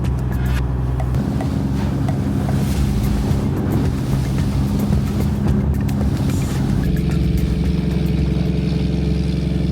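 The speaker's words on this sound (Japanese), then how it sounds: "ここ猿払の毛ガニ船団は全部で8隻、仲間の船とともに一斉に出港していきます。" Crab fishing boats from the Sarufutsu fleet of eight head out together onto the Sea of Okhotsk, a steady loud low engine rumble mixed with wind buffeting the microphone and washing water throughout.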